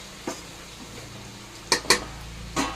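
Pappu charu, a lentil soup with coriander powder added, being mixed in a pot, with a few sharp, close clinks of a spoon against the metal over a quiet background hum, with no talking.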